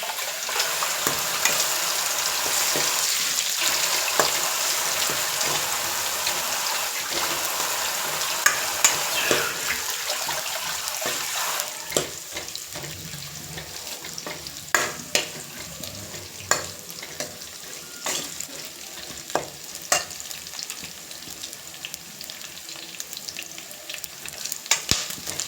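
Green chillies, four or five of them, frying in oil for mutton gongura fry, a steady close sizzle with scattered crackles and pops from stirring, with no speech.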